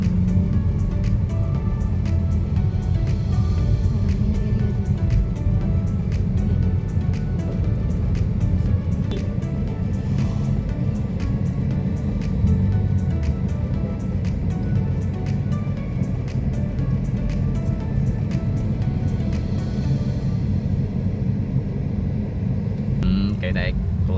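Continuous rumble of city road traffic at a busy intersection in Davao City, Philippines, with vehicles droning steadily and nearby, under almost constant conversation from people close by.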